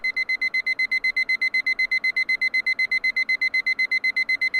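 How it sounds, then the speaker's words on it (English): Rapid, evenly pulsed electronic beeping from a video game alarm clock in Sound of Drop - fall into poison, a bright high tone repeating steadily, loud and continuous with no voices. "Ring! The sound of my alarm clock is a little delayed"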